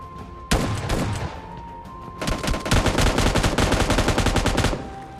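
An S12 shotgun firing in the mobile game PUBG Mobile Lite: one sharp blast, then a steady rapid string of loud, close shots lasting a few seconds before stopping.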